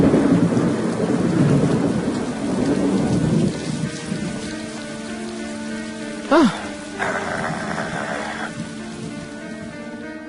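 Animated-cartoon rainstorm: a dense roar of rain with low rolling thunder that gradually fades, then a brief voice and a couple of short squeaks or sound effects near the end.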